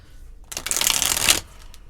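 A Muse Tarot deck is shuffled in one quick, close riffle lasting about a second, with quiet room tone before and after.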